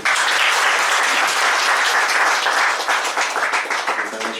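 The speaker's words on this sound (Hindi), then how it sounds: "तो हम परमेश्वर के लिए ना जोरदार तालियां बजाते हैं" A worship congregation in church claps loudly for God, a close, full burst of applause that stays strong for several seconds and then thins into more scattered, uneven claps.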